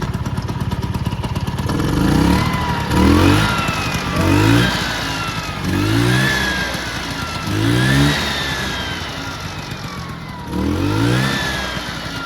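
A 1978 Vespa PTS 90 small-frame scooter with a 90 cc two-stroke engine is revved repeatedly at close range, five or six sharp throttle blips rising and falling over a steady idle.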